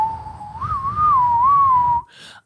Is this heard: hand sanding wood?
no